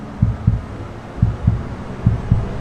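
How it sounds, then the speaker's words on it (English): Heartbeat playback inside the Mercedes AVTR concept car: deep, muffled double thumps in an even rhythm, three lub-dub pairs, close and steady over a soft hum. "You hear that? Little heartbeat."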